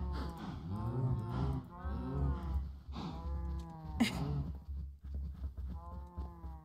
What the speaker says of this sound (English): Kind of fill this place up with cows.